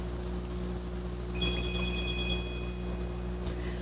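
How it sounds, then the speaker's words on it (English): A mobile phone rings with a short burst of rapid electronic trills lasting about a second, heard at moderate level over a steady background hum in a quiet room. "phone is ringing"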